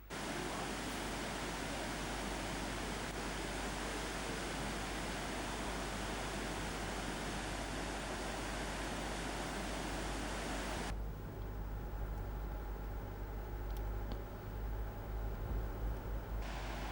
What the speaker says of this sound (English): The mighty Laxfoss waterfall is a sight not to be missed.